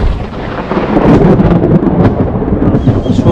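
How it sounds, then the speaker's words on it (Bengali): A thunderstorm rumbles loud and close with rain beginning to fall, deep rolling thunder and dense hiss filling the whole stretch without a break. "বৃষ্টি শুরু হয়ে গিয়েছে"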